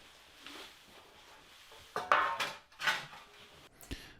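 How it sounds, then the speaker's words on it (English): A metal oil drain tray being set down beneath a 2013 Citroen C4 Grand Picasso 1.6 HDi diesel, giving a few scattered clanks and scrapes over a quiet background. "I will pop a tray under at this point to collect any oil that may spill"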